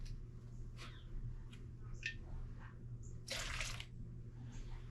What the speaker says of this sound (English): I always like to put just a little splash of reducer in there